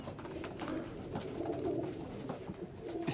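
Kasuri pigeons, a male and a female, coo softly and steadily through a low, continuous murmur.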